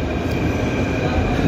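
Broadband rumble and rail noise inside a Jaipur metro train, steady and loud throughout with no clear pauses or announcements.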